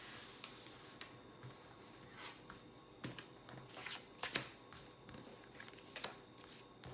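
Cards are shuffled softly and close up for a five-card tarot-style reading, quiet riffling and flicking with scattered small taps and snaps, faint overall, with no talking.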